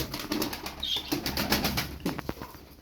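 Crested pet bird beating its wings in a flurry of flapping inside a coop, close and fairly loud, with a short call or coo in between.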